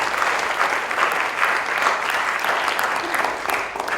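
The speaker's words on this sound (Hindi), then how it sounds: "एक बार जोरदार तालियां बजा दीजिए।" Theatre audience applause at Prithvi Theatre, Juhu, a dense, loud, continuous clapping from a full house that carries on steadily throughout.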